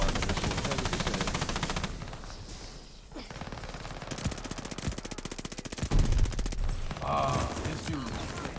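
A fast-firing machine gun in the video game Call of Duty Vanguard rattles in long, dense automatic bursts, loud and close, with brief pauses and other in-game gunshots and impacts layered in.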